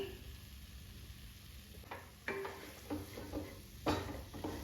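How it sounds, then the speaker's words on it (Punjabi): Besan bhurji with green coriander stirred in a pan, a quiet sizzle with a handful of distinct scraping stirs of a spatula against the metal. "ਇਸ ਦੇ ਵਿੱਚ ਹੁਣ ਮੈਂ ਥੋੜਾ ਜਿਹਾ ਹਰਾ ਧਨੀਆ ਪਾ ਕੇ ਇਸ ਨੂੰ ਹਿਲਾ ਲਾਂਗੀ"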